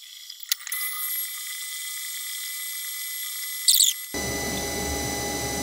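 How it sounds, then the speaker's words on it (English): A CNC machine runs an automatic probe cycle while machining copper: steady high mechanical whine with faint ticking, a brief burst of hissing near the end, then a lower rumbling machine hum takes over. "This is the automatic probe cycle."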